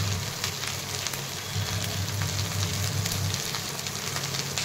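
Okra sautéing in a pan gives a steady, even sizzle and crackle of frying, close and continuous, with no talking.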